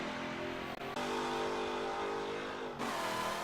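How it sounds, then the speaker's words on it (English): A 1969 Pontiac GTO The Judge in the Forza 7 racing game, on the Watkins Glen short circuit, drones loudly at high revs, with two brief dips where it shifts gear. "The final car to go around the Watkins Glen short circuit alternate formation was this, the 1969 Pontiac GTO The Judge."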